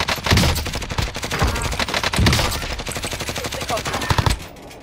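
Rapid machine-gun bursts and single gunshots crackle in a Call of Duty Warzone match, loud and close, in repeated clusters with brief gaps.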